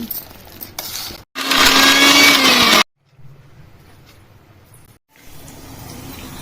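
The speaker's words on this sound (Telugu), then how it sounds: "ఈ చింతపండు వేసేసి మంచిగా కలిపేసుకొని మిక్సీ పట్టేసుకో" A mixer grinder grinds tamarind chutney in a home kitchen, a loud high-pitched whirring burst of about a second and a half, then quieter rattling and stopping, with short pauses between pulses.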